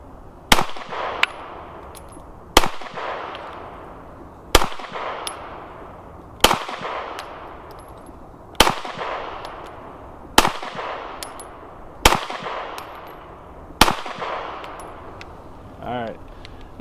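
Seven sharp, loud gunshots from a Smith & Wesson M&P 1.0 pistol at a practice session, fired singly at an even pace about every two seconds, each with a ringing metallic tail. A faint clink comes at the end.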